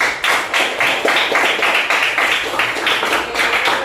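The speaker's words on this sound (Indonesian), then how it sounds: "Tepuk tangan dulu untuk Melan." Children in a classroom applaud together, a brisk, rhythmic burst of clapping from a small group close by, steady for several seconds with no talking over it.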